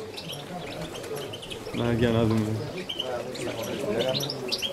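Goldfinches and other caged birds chirp at a crowded bird show, their faint tweets and calls scattered under a man's close, clear speech and the murmur of the crowd.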